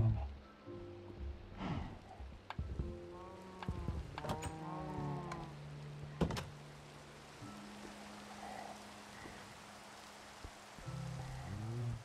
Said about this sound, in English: there's not a whole lot going on except a bunch of rain coming down